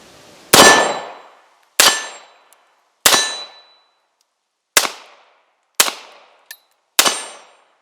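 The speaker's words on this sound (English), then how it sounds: "I'm just going to shoot some at my steel targets here and give you an idea what the gun looks like when it's firing" A Beretta 96D double-action-only pistol fires six sharp shots at steel targets on an outdoor range. Each loud crack is followed by a metallic clang and a short ringing decay, at uneven intervals of about a second.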